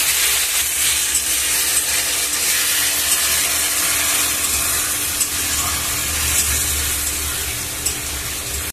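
Green chili paste, onion and tomato paste are stirred in a hot pan, giving a steady loud sizzle with scraping stirs throughout and no voices.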